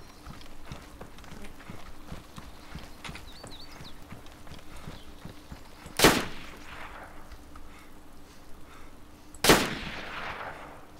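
Two sharp, loud gunshots in the survival game DayZ, several seconds apart, each with a short echoing tail over a quiet rustling outdoor background.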